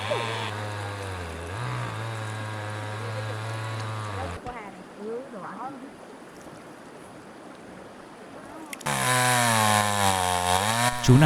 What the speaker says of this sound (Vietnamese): Chú này thì đang cưa gỗ để làm bàn ghế cho tụi mình ngồi.